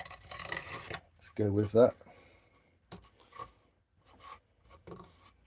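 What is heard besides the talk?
sanding an ash wood bowl with abrasive grit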